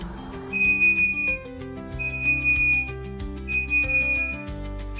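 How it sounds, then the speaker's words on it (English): A compact medical ultrasonic cleaner sounds its end-of-cycle alarm: repeated electronic beeps in steady bursts, loud and close, with no talking over them. "once the cleaning cycle is over, the machine will make an alarming sound telling the operator that now is the time to take the instruments out"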